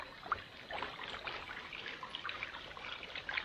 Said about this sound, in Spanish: Aquí en un arroyo de República Dominicana